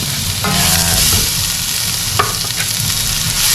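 Onions and ginger strips sautéing in a pot for chicken tinola soup, a loud close sizzle with a low rumble beneath and a couple of brief scraping stirs, no voices.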